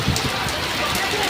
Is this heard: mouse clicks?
no